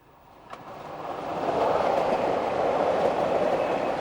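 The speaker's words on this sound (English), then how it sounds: "The CJ has many goods wagons passing over the rails" Goods wagons on the Chemins de Fer du Jura roll past over the rails, a steady rising rumble and rushing noise with faint clicks, growing louder as they approach.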